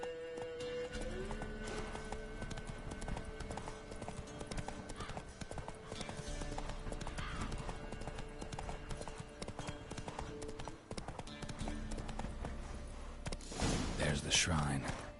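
The horse Roach trots in The Witcher 3, with a steady run of hoof clip-clops, faint whinnies and game ambience playing continuously over about fifteen seconds.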